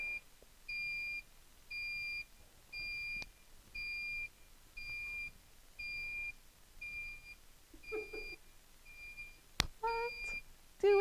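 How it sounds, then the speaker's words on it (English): A Cricut cutting machine beeps in a steady repeating pattern of short, even electronic tones, about ten in a row, with faint clatter and a sharp click near the end. "We're gonna let this sucker beep for a minute."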